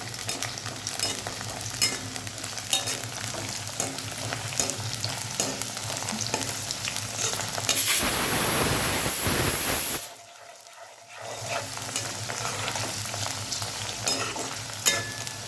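Sliced okra sautés steadily in a hot pan for a kara kuzhambu, a loud continuous hiss that surges briefly and then drops away for a moment before resuming.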